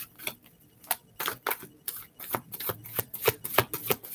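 Oracle cards being shuffled and drawn, a run of crisp riffling snaps and flicks close up, irregular taps and slaps through the whole stretch with no talking.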